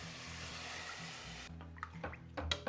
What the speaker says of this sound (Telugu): ఇప్పుడు ఇందులో ఫుల్గా వాటర్ వేసేయాలి.